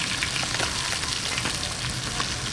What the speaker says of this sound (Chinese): 煎到两面金黄就可以